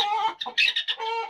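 A white hen clucks in short, loud bursts as she attacks to protect her chicks, with clustered repeated calls close to the recorder and no talk.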